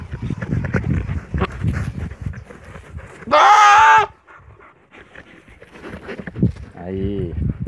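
Boer goats bleat in a farm pen, one loud, close, wavering bleat lasting under a second and a fainter one later, with someone talking throughout.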